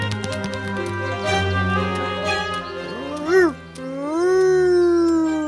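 A cartoon dingo, voiced by an actor imitating the animal, gives a long wavering howl that rises and bends in pitch after a sustained tonal note. The howl is loud and close.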